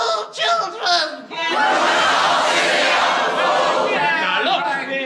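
A radio comedy show's studio audience shouts back a greeting in loud unison, a broad roar of many voices holding for several seconds after a man's short call, then fading into scattered laughter.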